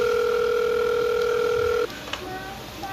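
Telephone ring tone in the Five Nights at Wario's horror video game, a steady electronic double tone held for almost two seconds, then cutting off into faint scattered beeps and quiet background.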